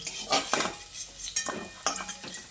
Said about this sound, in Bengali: এবার আমি আলু আর মুলোটাকে একটা পাত্রে তুলে নিচ্ছি।